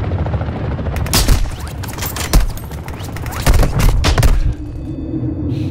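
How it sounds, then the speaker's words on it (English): Sniper rifle gunfire from the video game Call of Duty DMZ, a few loud, sharp reports spread across a dense, rumbling battle soundscape with no talk. "I will keep him down with my sniper."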